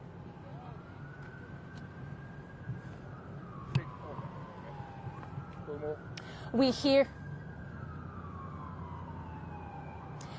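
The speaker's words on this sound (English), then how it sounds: "I can hear those lights and sirens right now, and the ambulance is coming around the corner." An emergency siren wails faintly in the distance behind steady crowd and street noise as an ambulance carrying shooting victims arrives at a hospital. Brief nearby voices break in partway through.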